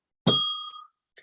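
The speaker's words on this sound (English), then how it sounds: "Where's my bell?" A single bell struck once, a bright ringing ding with clear overtones that rings out and decays for about half a second, followed by a faint tiny tap, alone with no talk.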